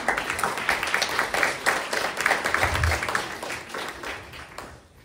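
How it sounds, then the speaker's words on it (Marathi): Audience applause at a Marathi poetry recital, a dense crowd clapping steadily at close range for about five seconds, slowly thinning out toward the end. "एकदा सर्व पालकांच्या आई वडिलांच्या मेहनतीसाठी आपण एकदा जोरदार टाळ्या वाजवूया का?"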